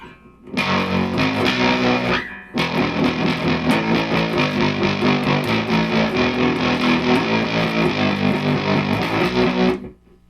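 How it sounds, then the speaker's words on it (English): An electric guitar plays loud, heavily fuzzed chords in a strumming rhythm, pausing briefly before continuing and ringing out. "Maybe kick on some fuzz."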